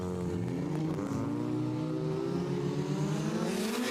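Datsun 1200 race cars at a Quick Street meet, with a close, loud engine revving steadily and climbing in pitch as it accelerates, heard alone.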